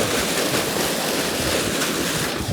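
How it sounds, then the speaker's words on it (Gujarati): A strongly flowing river rushes past in a continuous, loud roar, with wind buffeting the microphone and no one speaking. "પાણી ભાઈ ધમ ધોખાર જાય છે"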